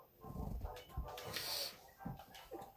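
Greater Dog barking in the Undertale video game, a few short yaps and whimpers over game music and sound effects.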